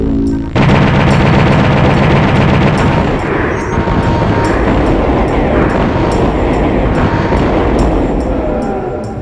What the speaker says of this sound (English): Congratulations, that was some nice shooting.